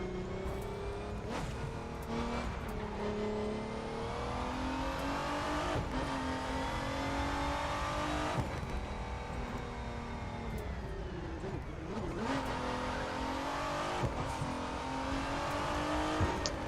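A Ford car accelerating in The Crew 2 racing game on a highway run from Miami to Chicago, its engine roaring steadily and climbing through gear shifts, loud and continuous with no talk.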